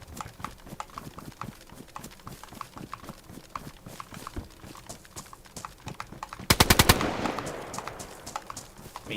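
Gunfire in the video game DayZ, heard as a steady run of sharp, rapid shots over a busy background, ending in a loud close burst of fast automatic fire.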